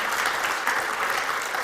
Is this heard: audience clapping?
yes